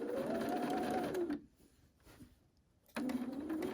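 Sewing machine stitching along the edge of a fabric table napkin with mitered corners, a close steady whir that stops for a short pause and then starts again.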